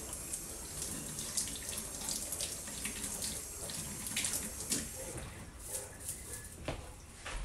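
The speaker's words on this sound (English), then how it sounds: "I got cheese on my hands and I want to wash it off." A kitchen tap runs steadily as cheese is washed off hands, with close splashing and a continuous rushing flow.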